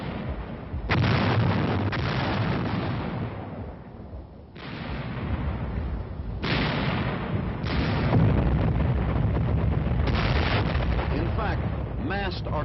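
Massed artillery fire booms in heavy, overlapping bursts, with dense rumbling barrages separated by brief lulls, loud and sustained throughout the stretch.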